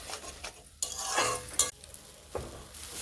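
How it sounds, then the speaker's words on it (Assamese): Sour tenga and potatoes frying with spices in a pan, a soft sizzle broken by several scraping stirs of a spatula against the pot, close and fairly quiet. "মই 2 পৰা 3 মিনিট টাইম টেঙাখিনি আলুখিনিৰ সৈতে ভালকৈ ভাজি ল'ম"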